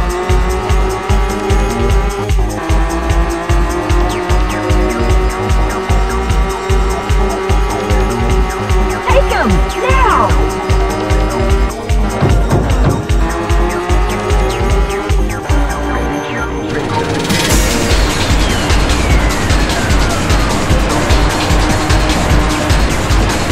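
Race cars in the Rage Racer video game roar continuously and loudly, with revving engine pitch changes, tire squeals and a sharp whooshing sweep near the end.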